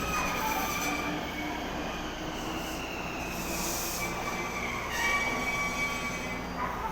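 Japanese train standing at a station in Nagoya, a steady rumbling hum with faint high squeals and hiss, close and continuous throughout.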